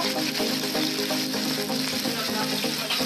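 Lentil fritters fry in a pan with salted lentil batter, giving a steady, close sizzle and crackle that holds even throughout, with faint stirring underneath.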